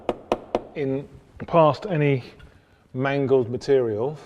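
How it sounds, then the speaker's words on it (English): A Torx bit tapped into a seized bolt head on a 1986 Range Rover, three sharp knocks at the start, then someone talks. "I'm going to give it a bit of a tap just to try and get it"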